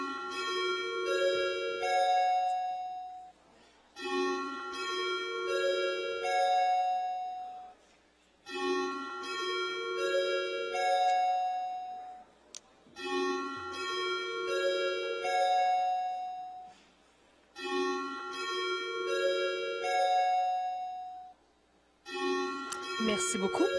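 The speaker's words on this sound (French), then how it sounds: "nous allons faire sonner les cloches et ouvrir les portes" Bells ringing in a municipal council chamber to call a vote, a repeating chime pattern sounding in several long cycles separated by brief pauses.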